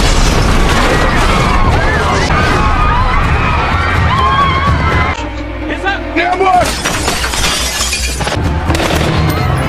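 A bomb explodes in a film scene with a heavy boom and shattering debris, followed by a rumbling aftermath and chaotic noise, loud throughout, with a voice talking over it.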